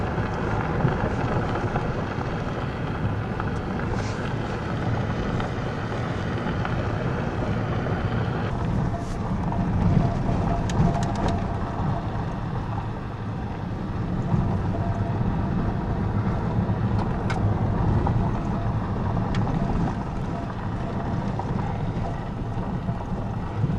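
An off-road rig drives a steep, sharp mountain switchback road, its engine a steady low rumble mixed with wind buffeting the microphone, continuous and close for the whole stretch with no talking.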